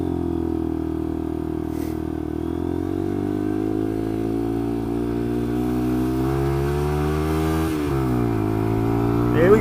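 A Lexmoto LXR 125 motorcycle accelerates on its first ride, a loud, steady engine drone climbing in pitch, with a brief dip near the end as a gear change comes in.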